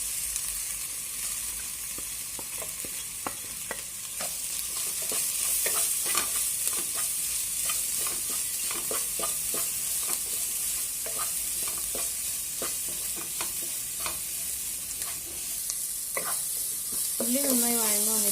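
Onions sautéing in a pan sizzle steadily while a spoon scrapes and stirs in quick repeated strokes, with a brief voice near the end.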